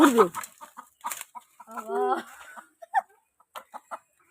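Chickens being chased give short, agitated clucks and one drawn-out squawk, mixed with nearby human voices and scuffling.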